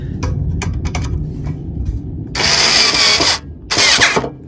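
Two loud bursts of a small power tool whirring, the first longer than the second, after a few light clicks and taps, while installing a K&N Blackhawk cold air intake on a sixth-generation Chevrolet Camaro SS.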